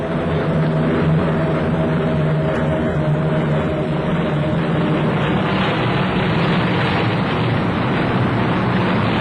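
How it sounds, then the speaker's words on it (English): Heavy and medium WWII Allied bombers, including a Liberator, with fighters in flight, a steady, loud, continuous drone of propeller engines filling the whole stretch without pause. "Heavy bombers, medium bombers, and fighters took the air in a mighty concentration against the big Japanese concentration."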